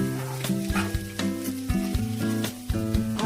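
Onions sautéing in a pan for a Kerala-style chicken liver roast: a close, crackling sizzle with rhythmic stirring scrapes over a steady, tonal melodic background.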